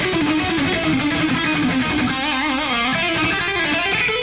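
A distorted electric guitar lick, played picked: a quick run of sharply attacked notes that settles into a held, vibrato-laden note in the second half, loud and close.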